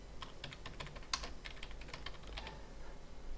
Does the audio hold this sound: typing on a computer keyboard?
yes